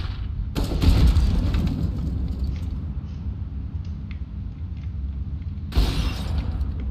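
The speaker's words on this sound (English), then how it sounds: "Throwing flashbang." A flashbang grenade goes off in a competitive team shooter, a loud crackling burst near the start, a sustained rumble, and a second sharp burst near the end, with no talk.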